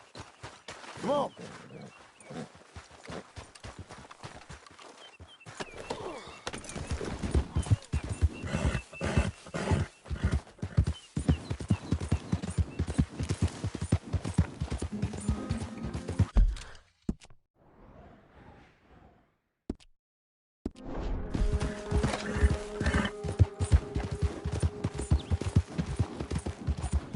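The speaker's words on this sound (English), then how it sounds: "Yeah. Horse." In Red Dead Redemption 2 a horse's hooves clip-clop in a steady galloping rhythm under rushing wind, with occasional whinnies, a brief near-silent gap, then the hoofbeats resume; a voice speaks briefly.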